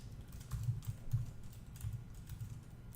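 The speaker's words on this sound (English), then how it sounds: "we type the word img" Typing on a computer keyboard while writing HTML: quiet, irregular key clicks that come in small clusters, with no talking over them.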